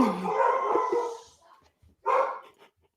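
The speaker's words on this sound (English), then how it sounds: "I got dogs barking." Dogs bark indoors in two separate bursts, a longer cluster of barks followed by a short sharp one after a pause, loud and close, with no talk over them.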